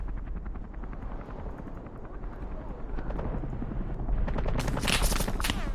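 A military helicopter's rotor drones steadily through a Cold War battle at the Berlin Wall in Men of War: Assault Squad 2, with bursts of gunfire growing louder near the end.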